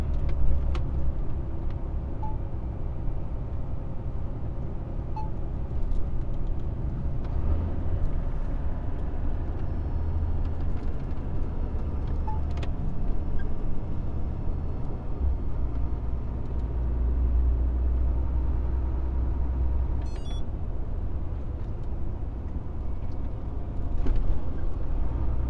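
A car drives along a twisting road through villages, its engine and tyre rumble holding a steady, close drone throughout with no speech.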